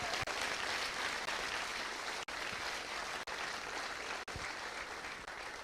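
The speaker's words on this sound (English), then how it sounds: "I'm not sure if you can hear that applause or see the crowd at all, Bernie, but the applause is terrific." Sustained crowd applause at a public event with John McDonnell and Bernie Sanders, a dense even clatter of many hands that continues throughout with only a few brief dips and no talk.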